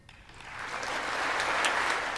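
Applause in the chamber for Zelensky's speech to a joint session of the US Congress, swelling from quiet into broad, sustained clapping from a large audience.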